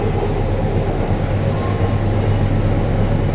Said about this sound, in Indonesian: Ada suara kereta, tapi keretanya nggak nampak.